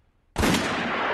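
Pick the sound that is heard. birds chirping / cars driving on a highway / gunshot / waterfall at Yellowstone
gunshot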